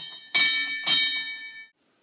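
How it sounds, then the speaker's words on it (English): Two bright metallic bell strikes ring out as a stage effect in a theatre performance of Macbeth, each clang followed by a shimmering, sustained ring that fades before quiet. "Ring the bell!"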